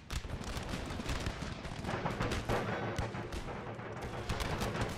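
Musket volleys crackle in the Empire: Total War battle, dense overlapping shots rattling continuously for several seconds at moderate distance, with no voices over them.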